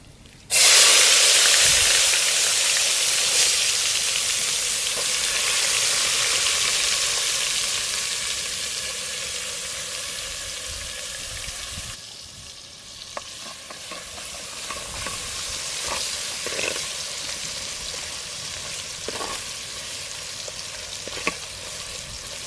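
Onion tipped into hot oil with red chillies and curry leaves in a village kitchen sets off a loud hissing sizzle that slowly settles into quieter frying, with occasional stirring clicks.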